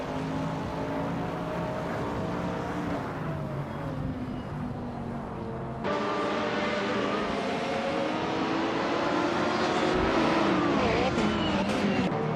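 Race cars in a racing video game roar continuously with whining engine tones that rise and shift. A sharp change midway brings louder, brighter engine noise building to the end.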